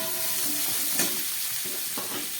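Green chilies go into a hot frying pan with turmeric, raising a steady close sizzle broken by a few short stirring clatters.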